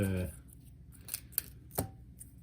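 A knife cuts an onion in half on a board while an omelette is being prepared, giving a few short, sharp chopping clicks after a brief burst of talk at the start.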